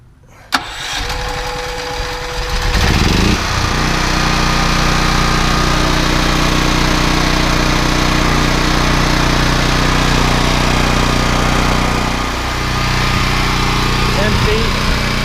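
A Westinghouse WGen9500DF dual fuel portable generator switched to propane cranks and catches after a click, then settles into a loud, steady engine drone with a low hum that dips briefly near the end.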